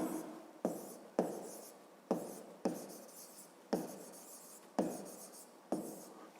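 A maths expression is written out by hand in a steady series of short, crisp strokes, each starting sharply and fading, close and alone with no talking.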